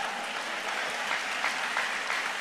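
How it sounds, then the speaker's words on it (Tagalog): A church congregation clapping loudly, a dense, sustained wash of many hands applauding together at a steady level, heard from within the crowd. "pwedeng pumalakpak ng malakas."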